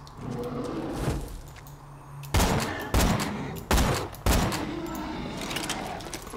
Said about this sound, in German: Na komm her, schön ins Gesicht schießen.